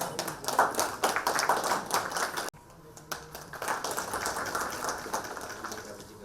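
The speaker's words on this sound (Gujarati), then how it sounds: "આપણે તાળીઓના ગડગડાટથી વધાવીએ છીએ." A gathered audience at an agricultural dialogue event claps for a certificate recipient, a busy round of hand claps that breaks off abruptly, then resumes more softly with some background voices.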